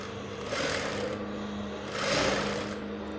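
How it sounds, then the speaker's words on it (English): A sewing machine stitches a half-inch seam in fabric for a peplum top, with a close, steady mechanical whir. The sound swells in two short surges over a few seconds. "as you're sewing, remove your pins and continue sewing your half inch"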